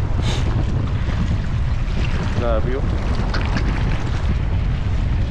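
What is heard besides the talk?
waves crashing against rocks in strong wind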